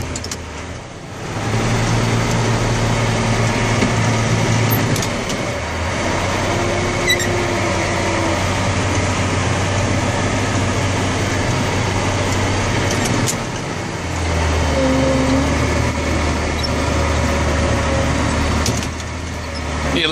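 A compact utility tractor engine idles and runs steadily at close range on a farm the morning after an overnight windstorm, with a low droning hum and small load changes throughout, and no talking.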